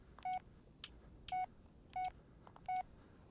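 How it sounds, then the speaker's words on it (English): Several short electronic phone text alert chimes from the PC video game Blair Witch, four or five evenly spaced tonal beeps standing out clearly over a quiet background, with no talk. "Text message."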